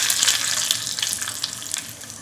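Curry leaves hit hot oil for a tempering and give a bright, crackling sizzle with sharp spits and pops that fade slightly over two seconds. The sound is close and loud, with no talk.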